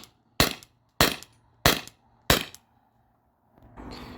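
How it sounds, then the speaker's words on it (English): Paintball marker dumping the last rounds of a magazine: four sharp, evenly spaced loud shots close by, each fading quickly, followed by a soft hiss. "Just gonna mag dump these last rounds right here."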